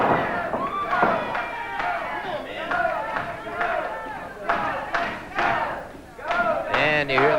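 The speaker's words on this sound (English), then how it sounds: "And you hear the chant being picked up by the crowds here at the studio." Studio wrestling crowd in 1980s Florida chanting and cheering loudly in rhythmic bursts of many voices, with a commentator talking over the noise.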